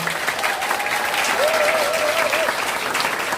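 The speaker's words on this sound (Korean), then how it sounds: "귀한 말씀 해주신 이재명 당대표님께 다시 한번 감사의 박수 부탁드리겠습니다" Audience applause at a town hall meeting in Jeju for party leader Lee Jae-myung: steady, dense clapping from a crowd for about three seconds, with a faint wavering whistle over it.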